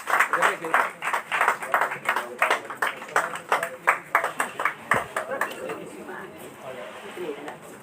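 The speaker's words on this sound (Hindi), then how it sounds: "जोरदार तालियां हो जाए।" An audience at a poetry tribute for the poet Vimal Rajasthani claps in a steady rhythm, several strong beats per second, close and loud at first, then thinning and softening toward the end.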